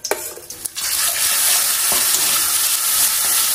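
Ginger-cumin paste and turmeric hitting hot oil after bay leaf and dried chilli, a sudden loud, steady sizzle that follows a few clattering stirs and then holds, close up and without talk.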